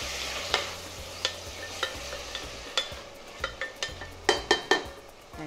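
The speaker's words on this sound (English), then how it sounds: "and finely chopped tomatoes. We'll just give it a stir." Chopped tomatoes with curry leaves being stirred in a frying pan for drumstick masala sabzi: a soft sizzle under a run of spoon scrapes and metallic clinks against the pan that grow quicker toward the end.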